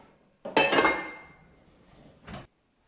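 Metal pots and saucepans clatter and clink as they come out of a dishwasher, with one loud ringing clash that fades slowly, then a second shorter clank, close by and with no voices.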